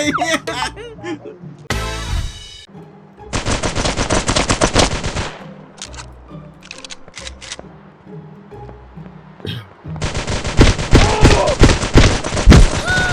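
Rapid gunfire in the mobile game GTA RP comes in bursts of automatic fire and single shots, loud and close, while people talk and shout over it.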